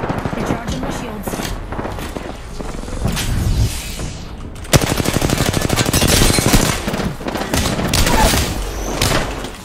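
Enemy gunfire in a shooter video game: rapid automatic bursts and single shots ring out near and loud with booming impacts, while a player talks over the firing.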